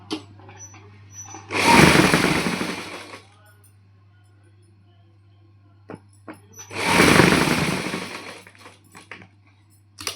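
A sewing machine runs in two bursts of stitching along a round neckline, each lasting about a second and a half, close and fairly loud with a steady low hum between them.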